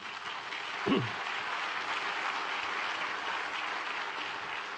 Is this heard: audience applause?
yes